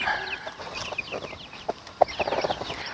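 Soft, low clucking of a Leghorn hen lying over eggs, a series of short murmuring calls repeated close by, with faint bird chirps in the background.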